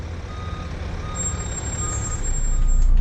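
Reversing beeps from a bus parking at a depot, a steady high tone over a low diesel engine rumble that grows louder toward the end.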